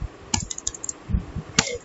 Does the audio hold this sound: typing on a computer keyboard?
yes